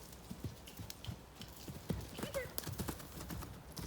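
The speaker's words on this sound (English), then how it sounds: "there he goes again, and that he's got a very nice little canter" Hooves of a horse clip-clopping in a steady canter rhythm, ridden bareback, with a brief neigh partway through, moderately near over a soft outdoor background.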